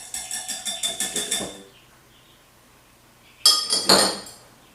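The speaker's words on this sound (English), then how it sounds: "you're going to want to put these raw ingredients in with the eggs. So, we're just going to mix this in" Raw ingredients being mixed into eggs in a bowl: a quick, steady run of about eight light clinks, a short pause, then two louder clanks of utensil on bowl, close by and without speech.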